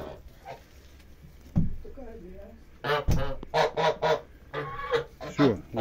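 A small flock of three or four geese honks in short, loud bursts at close range, the calls coming in clustered runs, with a person talking nearby between them.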